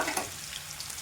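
Garlic sputtering in hot tempering oil, a brief continuous sizzle with soft crackles and a faint stir, close and alone.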